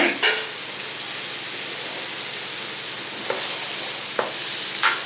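Green papaya with curry leaves stirred in a pan, a soft, steady sizzling hiss with a few scattered scrapes and taps of the spoon, close and unbroken, no voices.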